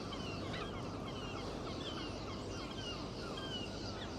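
A large flock of starlings perched on a police station mast in Blackpool, a dense, continuous chatter of many birds at steady loudness with no talking.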